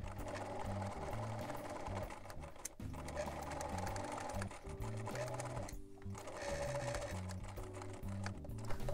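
Sewing machine stitching a bound cosplay edge up to a corner and then backstitching, a soft steady mechanical whirring chatter that shifts speed, close and fairly quiet, with no talk.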